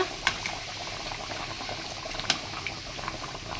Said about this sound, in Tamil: மீன் குழம்பு பார்த்தீங்கன்னா நல்லா கொதிக்குதுங்க